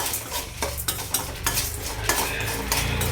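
A metal spoon stirs dried red chillies, Byadgi, Chikkaballapur and Guntur, as they roast in a pan on the stove. It scrapes and clinks in repeated strokes over a low frying hiss, close by and with no talk.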